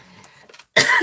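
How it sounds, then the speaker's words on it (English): After a near-silent pause, one sudden harsh throat-clearing burst, close and loud, with a rough scraping quality. "I've got to clear my throat, sorry."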